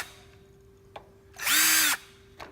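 Power drill briefly spinning a screw into the side plate of a geared motor, a single loud half-second whine rising in pitch, with small clicks before and after over a steady background hum.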